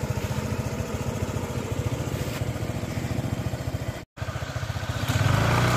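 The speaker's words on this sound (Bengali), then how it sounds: "গাড়িটির ইঞ্জিনের সাউন্ড।" A Honda ADV 150 scooter engine idles steadily with an even, rapid putter, close and continuous, rising slightly near the end after a brief dropout.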